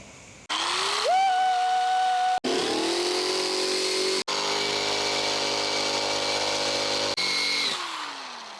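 An Eastwood Majestic Beast power stripping tool removing undersealant from a 1984 Porsche 911, a loud close motor whine that spins up and holds steady, briefly cutting out and restarting several times, then winding down.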